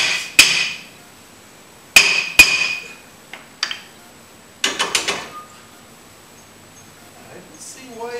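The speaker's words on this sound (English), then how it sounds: "This hammer is probably older than a lot of you guys are." Several sharp hammer strikes on a hard surface, isolated and irregular, with a quick double hit and a cluster of lighter taps, no talking.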